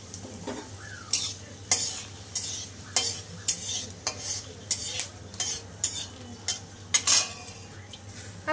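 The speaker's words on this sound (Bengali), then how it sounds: "আর থোড়ের পরিমাণ মতন সর্ষে ফোড়নে দিয়ে দিলাম।" Mustard seeds and three split dry red chillies spluttering in plenty of hot oil in a pan, with sharp crackles and spatula clinks recurring over a steady sizzle.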